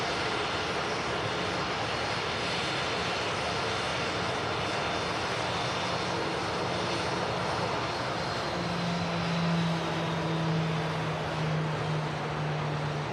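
A TUI Boeing 787 Dreamliner taxis back up the runway at Manchester Airport, its jet engines giving a steady, broad roar heard from a distance, with a low hum rising partway through.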